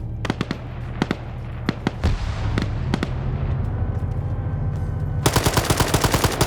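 Rapid gunfire in a PvP video game match, sharp cracking shots in bursts, then a fast machine-gun-like string of loud reports near the end.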